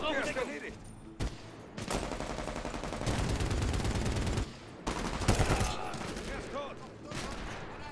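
Rapid automatic gunfire from the Medal of Honor Warfighter shooter game rattles in loud sustained bursts with brief gaps, alongside sharp single shots and a voice talking over the action.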